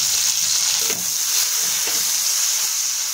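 Chopped green chillies fry in a pan with salt, giving a loud, steady, close sizzle with a couple of soft stirring touches.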